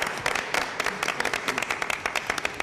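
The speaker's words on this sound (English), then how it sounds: "And I would gives you a clap." Clapping at a school district board meeting, a steady patter of many hands from a small audience in a meeting room, continuous and moderately loud for the whole stretch.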